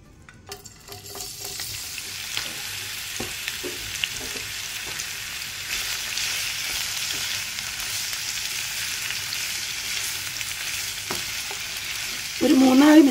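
Ivy gourd stir-frying in coconut oil over a high flame, a steady hissing sizzle throughout with soft taps of a stirring spoon, no voices.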